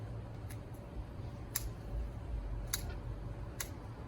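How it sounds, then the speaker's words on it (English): Scissors snipping through the roots of a cotoneaster bonsai during repotting: four quiet, sharp cuts spaced about a second apart, set against a low steady background hum, with no talking. "So just get your scissors and just go ahead and separate the two."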